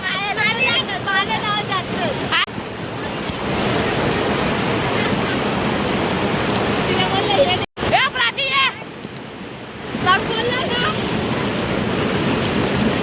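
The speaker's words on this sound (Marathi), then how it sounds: "पाण्याचा फ्लो बघा" A waterfall near Bhiwandi sends a dense, loud, continuous rush of flowing water, with voices of people talking over it throughout and a brief dropout midway.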